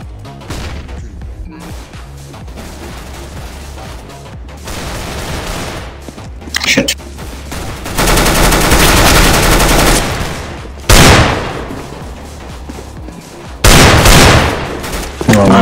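Counter-Strike: Global Offensive gunfire and a thrown grenade's explosion, sporadic shots followed by loud sustained booming blasts with broad rumbling tails, several heavy bursts near the end, over faint voices.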